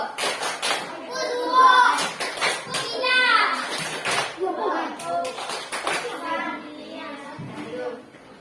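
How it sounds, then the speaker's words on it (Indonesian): A classroom of children performs a rhythmic clapping routine, bursts of hand claps alternating with their chanting and a teacher's voice, lively and close. "Kasih tepuk lampu untuk kelompok kerongkongan."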